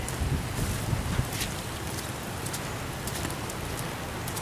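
Steady rain falls outdoors during Hurricane Sandy, a continuous broadband wash of drops with a low rumble of wind beneath it, fairly close and even throughout with no voices.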